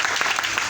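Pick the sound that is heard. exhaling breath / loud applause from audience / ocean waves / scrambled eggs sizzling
loud applause from audience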